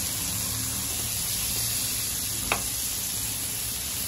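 Fish fries in a hot pan after being flipped, giving a steady close hiss of oil with one sharp crackle partway through.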